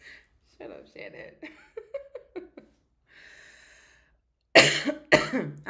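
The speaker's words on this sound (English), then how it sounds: "I have a really bad, nasty cough." Harsh coughing from a woman with a bad, nasty cough, two loud bursts near the end, preceded by quieter breathy chuckles, throat sounds and a soft hiss.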